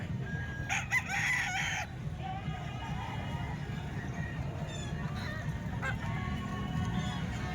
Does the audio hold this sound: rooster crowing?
yes